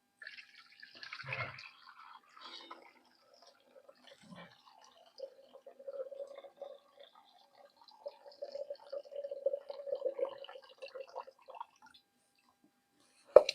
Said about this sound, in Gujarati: અને હવે આ પાણી કાઢી નાખીએ આમાં